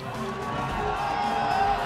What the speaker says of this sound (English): The crowd are making a lot of noise